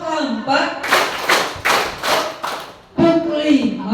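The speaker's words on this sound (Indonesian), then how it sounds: "tepuk 1, tepuk 2, tepuk 3, tepuk 4," Scout students at a school orientation clap in bursts between spoken counting, several loud rhythmic claps in quick groups, with voices before and after.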